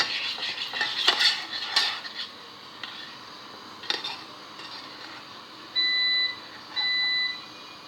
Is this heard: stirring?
yes